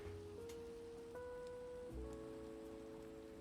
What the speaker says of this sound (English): maybe I can sleep and get rid of this rain real quick